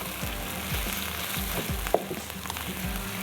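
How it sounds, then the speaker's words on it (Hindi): Minced meat and a few cloves of garlic frying in a pan on lowered heat, a steady loud sizzle with periodic scraping stirs, no talking. "चलिए, इसको हमने थोड़ा सा पकाना है, लहसुन का थोड़ा सा कच्चापन दूर हो।"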